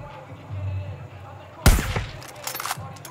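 A single sharp, loud gunshot from Far Cry New Dawn cracks out midway, followed by scattered pops and bursts of game noise, with a voice talking faintly nearby.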